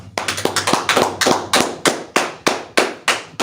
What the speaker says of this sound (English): Let's clap it up. Clap it up.